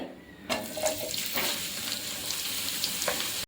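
Sliced shallots frying in hot oil in a pan for a Kochi-style potty curry, a steady close sizzle with a few sharper crackling bursts and no talking.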